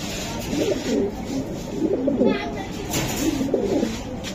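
Racing pigeons coo in soft, repeated rolling bursts close by, with people talking quietly in the background.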